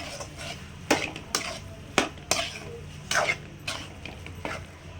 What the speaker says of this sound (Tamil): இதை நம்ம சேர்த்துக்கலாம் நல்லா இந்த மசாலாக்குள்ளே நம்ம பரட்டலாம்